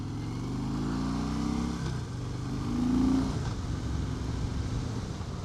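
A 2015 Harley-Davidson Street Bob with stock exhaust pipes runs steadily in a low rumble, with a slight rise in engine note partway through, heard alone with no talk.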